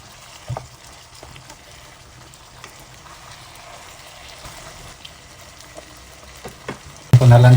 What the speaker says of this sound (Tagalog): Mikos-mikos lang natin para mahalo yung timpla.